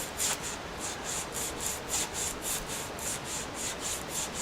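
Steady back-and-forth rasping of a small file on a guitar nut, about four strokes per second, close and quiet, with no voices.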